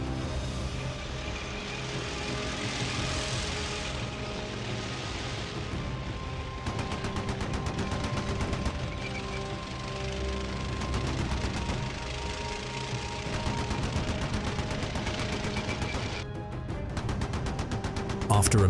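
Machine gun fire from a Mastiff armored combat vehicle fighting near a settlement, heard as sustained rapid bursts that grow denser from midway, over a constant rumbling background with voices at times.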